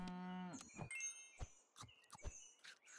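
A cartoonish cow moo from the Super Auto Pets video game, a single drawn-out low call at the start, followed by a few short bright chirping and clicking game effects with no talking.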